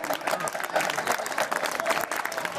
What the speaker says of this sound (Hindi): तालियां जोर से बजिए।